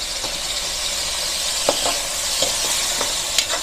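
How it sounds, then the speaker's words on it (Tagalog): Soy sauce hits pancit canton noodles in a hot pan, giving a loud, steady sizzle and hiss with a few scraping stirs breaking through, up close with no talking. "Lagyan po natin ng soy sauce."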